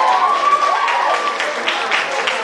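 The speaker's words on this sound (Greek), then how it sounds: "θα ήθελα το πιο θερμό σας χειροκρότημα" Warm audience applause fills a dance hall after a couple's Latin jive performance at a Greek dance studio event, steady broadband clapping mixed with crowd noise throughout, with a faint voice underneath.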